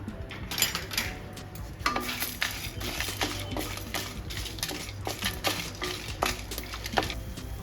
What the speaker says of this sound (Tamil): இதை கொஞ்சம் நல்லா செவப்பாக வறுத்துக்கலாம்.